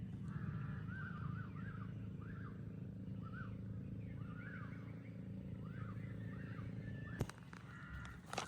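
A crow caws repeatedly in short, harsh calls over a steady engine rumble, followed by a brief clatter near the end.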